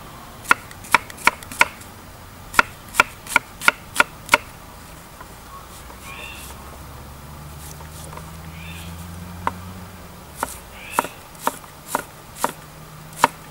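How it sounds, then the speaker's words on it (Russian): Onion chopped into small cubes for bozbash: crisp knife strikes on a board come in quick bursts of several chops, pause briefly, then resume, close and clear with a low background hum. "Лук я буду резать мелкими кубиками, мелкими."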